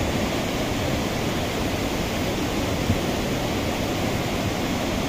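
Water rushes steadily at Chapri Dam in Mianwali, a dense continuous roar with no breaks and no voices.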